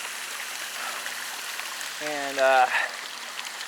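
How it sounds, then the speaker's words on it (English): Creek water flowing beside a waterfall on a muddy winter trail in Red River Gorge, a steady broad rushing wash running throughout, with someone talking briefly over it near the end. "You got the creek"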